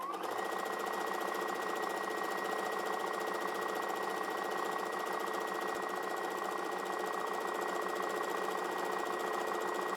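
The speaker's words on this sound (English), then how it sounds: "now I'm just going to go ahead and press my foot down and sew the stitch." A sewing machine runs steadily for the full stretch, stitching a decorative scallop stitch with a continuous close mechanical whir and fine rhythmic ticking, no voices.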